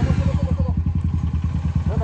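A KTM Duke 200 motorcycle engine running while being ridden, a loud close pulsing thrum with rapid regular firing beats and a rider's voice over it.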